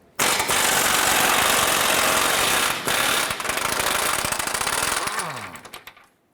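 A power tool loosens and backs out a 19mm front lower control arm bolt on a 2008-2012 Honda Accord, a loud, steady mechanical roar lasting about five seconds with one brief break, then winding down.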